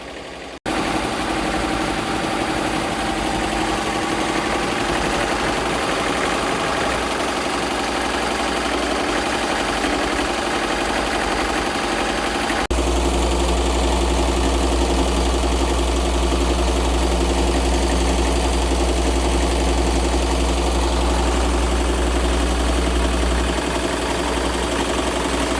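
A Tajima Sai multi-needle embroidery machine stitches designs onto blankets, a loud continuous mechanical drone with steady vibration, its tone deepening and thickening partway through as the run goes on without interruption.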